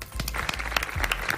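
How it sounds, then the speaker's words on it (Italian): Audience applause breaking out for someone at an Italian social gathering, a short burst of clapping from a small group, close and fairly steady. "Un applauso a Matteo."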